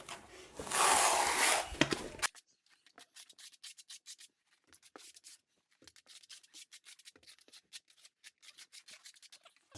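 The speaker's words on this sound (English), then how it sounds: "then you want to do directional troweling, so having all the ridges in the same" Notched trowel dragging through tile mortar over a concrete shower floor, combing ridges in one direction: a loud scraping burst at first, then a long series of quiet, rhythmic rasping strokes close by.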